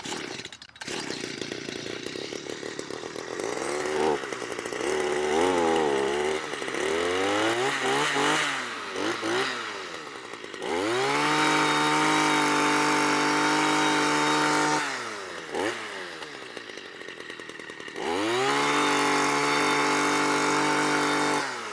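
A gas-powered Stihl Power Sweep clears mulch from a lawn, its two-stroke engine loud and close, rising and falling through repeated revs and sustained full-throttle runs with brief idle dips between.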